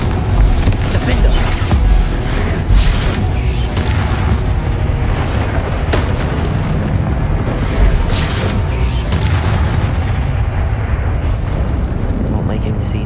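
Booming blasting-spell explosions from Confringo in Hogwarts Legacy, a continuous loud rumble of impacts and bangs with in-game voices shouting over the combat.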